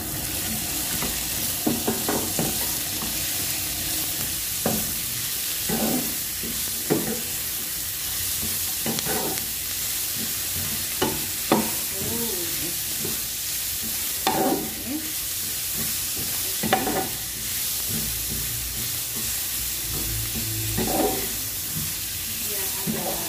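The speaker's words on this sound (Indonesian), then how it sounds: "masukkan bawang bombaynya, kita oseng" Onions stir-fried in a hot pan give a loud, continuous sizzle with repeated scraping strokes of a spatula at an irregular rhythm, and a voice speaks now and then over the cooking.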